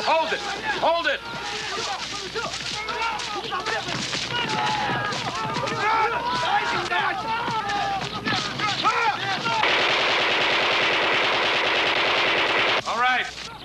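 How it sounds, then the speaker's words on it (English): Sustained machine gun fire in a Korean War battle scene, rapid bursts running nearly continuously with shouted voices over the din, ending in a dense roaring volley before cutting off. "Commanders! Coronel Kulgua! Cease fire! Hold it"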